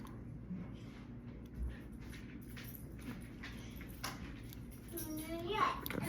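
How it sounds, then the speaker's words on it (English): Someone talks and plays faintly in the background of a quiet indoor room, with soft scattered knocks and a brief higher-pitched voice near the end. "If you hear my youngin' in the background, ignore it."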